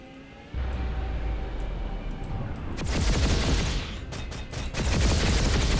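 Light PPA anti-infantry gun on a Scythe fighter aircraft in Planetside 2 fires rapid bursts, loud crackling fusillades over a constant engine roar, the bursts starting about midway and returning after a short gap.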